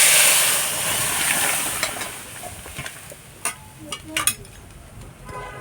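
Lentil dal hits a hot pan with a loud burst of sizzling and hissing steam that gradually fades, followed by a few scraping stirs and clinks near the end.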